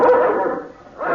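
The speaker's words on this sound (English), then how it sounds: "there's something wrong when Milos barks like that" A dog gives a single drawn-out, whining bark or yelp that fades midway and rises again briefly at the end, close and fairly loud, in an old radio drama.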